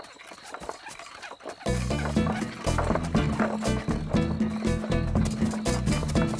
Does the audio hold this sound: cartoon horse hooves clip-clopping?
yes